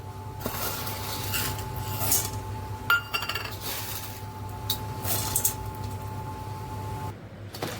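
Chana dal dry-roasts in a pan over a medium gas flame, a continuous rattling, clinking crackle of lentils shifting against metal under a steady hum, with occasional louder scrapes.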